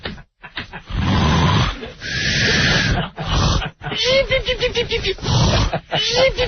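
A voice imitating an exaggerated Three Stooges-style snore in loud, rough, grunting bursts with sputtering, wavering sounds between breaths.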